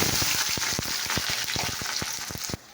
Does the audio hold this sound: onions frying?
yes